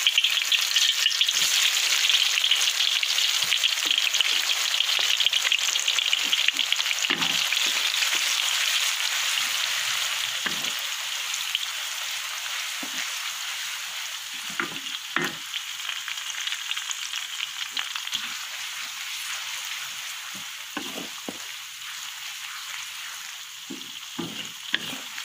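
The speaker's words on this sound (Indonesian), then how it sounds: "Setelah minyak kita panas, kita tumiskan bahan-bahan kita tadi. Kita tumiskan bawang besar." Onions and other ingredients sizzle steadily in hot oil in a pan for pickle preparation, a dense continuous frying hiss with occasional stirring clinks, fading slightly over time, no talking.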